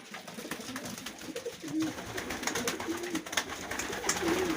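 Pigeons coo repeatedly in soft, rolling calls amid a busy background of rustling and fluttering, several birds close by inside a pigeon loft.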